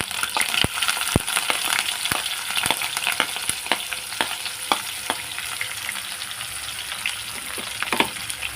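Onion, green chilli and curry leaves fry in a pan for a cauliflower potato curry, giving a steady close sizzle with sharp pops and crackles scattered throughout.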